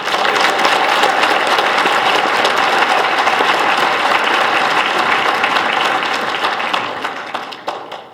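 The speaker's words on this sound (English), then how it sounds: "let's give a round of applause for the youth combatants" A large crowd applauds the youth combatants at a medieval-style Castle Wars event, loud sustained clapping that holds steady for several seconds before tapering off into scattered claps near the end.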